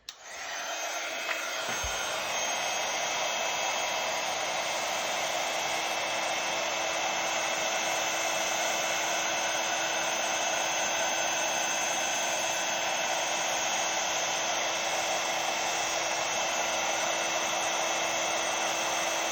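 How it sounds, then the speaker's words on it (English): A heat gun used on embossing powder for card making blows a steady, loud whooshing hiss close by after a brief click at switch-on, continuing unbroken with no talking. "All you're going to do is just hold that heat gun still."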